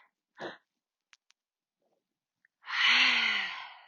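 Mouth breathing during an outdoor yoga breathing exercise in the Texas Hill Country: a short quick breath, a pause with faint ticks, then a long, loud, breathy exhale close to the mic.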